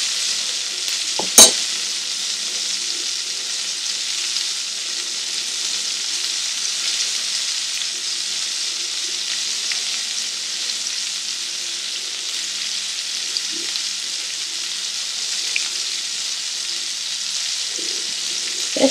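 Large red prawns fry in very hot oil for prawn vindaloo, giving a loud, unbroken hiss of sizzling, with a sharp knock near the start and a few faint clicks from turning the prawns.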